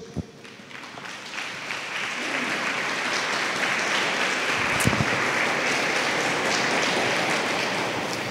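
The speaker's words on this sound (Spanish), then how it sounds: "Podemos dar un aplauso a nuestro Dios" Congregation applause during a church sermon, a sustained wash of many hands clapping that swells after a brief start and holds steady, fairly distant and room-filled.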